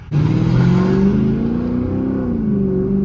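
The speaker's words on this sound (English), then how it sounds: "Got this loud truck right here." A loud truck drives past outdoors with a steady, heavy engine roar that shifts slightly in pitch as it passes, close by and continuous with no talking.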